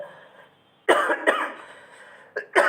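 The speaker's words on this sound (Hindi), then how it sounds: "सॉरी बहुत खांसी आ रही है" Several harsh, close coughs in quick bursts, separated by short pauses, with a faint voice fading out before them.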